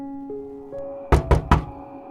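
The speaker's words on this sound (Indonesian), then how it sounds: "Ia mengetuk pintu itu dengan kuat, membuat rumah papan itu sedikit bergetar karenanya." Three loud, heavy knocks strike the wooden door of a plank house in a quick series, following a low steady hum.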